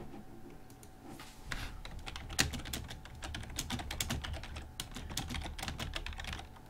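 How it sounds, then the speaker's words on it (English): Typing on a computer keyboard during a football management game session: a busy run of sharp key clicks and clacks at close range, continuing steadily with no talk. "Sorry about the typing there."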